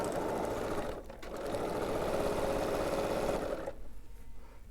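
A sewing machine stitches a fabric shopping bag in rapid, even bursts, a close mechanical hum and chatter that pauses briefly, runs again, then slows near the end.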